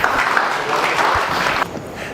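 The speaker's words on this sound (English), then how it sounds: "I want to have a big round of applause for doing this a month early." Audience applause welcoming a speaker at a data science talk, steady broadband clapping from a crowd that continues for about two seconds and thins slightly toward the end.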